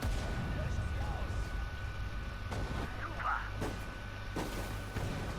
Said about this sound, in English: Let's get the artillery on that.